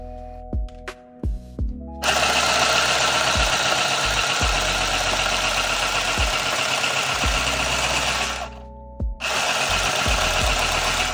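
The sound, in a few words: mini handheld sewing machine sewing two pieces of felt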